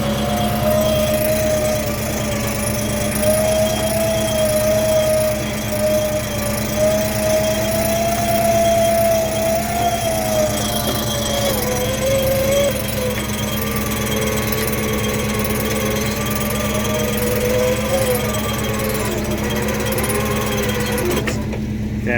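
A truck-mounted winch drags a wrecked, non-running Honda Civic wedged on a log, giving a loud, steady mechanical drone with a wavering motor whine that holds for the full stretch without pause.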